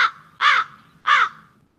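Crows cawing, three harsh calls in an even rhythm, fairly close and loud with quiet gaps between them.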